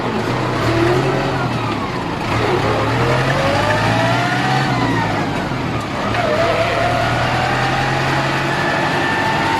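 Used farm tractor with 8,000 hours on it, driven through its gears on a test run: a steady, loud engine drone with shifting pitch that rises and falls as it changes gear, no talking.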